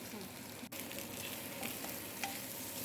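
Soaked rice and fish heads frying and being stirred in a hot pan for Bengali muri ghonto, a steady close sizzle with scraping stirs, no voices.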